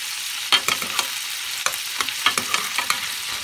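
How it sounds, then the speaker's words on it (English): Already-cooked jumbo shrimp sizzle as they are flipped in a hot pan, with steady frying hiss broken by sharp clacks and scrapes of a utensil against the pan, close and clear without talk. "So these shrimp are already cooked. I'm just going to flip them over."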